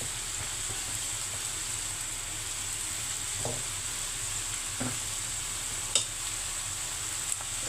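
Spring onions frying in a pan, a steady close sizzle with occasional soft scrapes of stirring and a couple of light clinks of the utensil against the pan.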